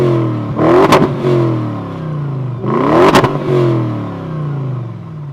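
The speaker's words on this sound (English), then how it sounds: "the sound of the twin-turbo V8 is actually also more fitting to a car of this type" A 2014 Bentley Continental GTC's twin-turbo V8 revs sharply twice, climbing to a loud roar and falling back to a deep idle between the blips, close by.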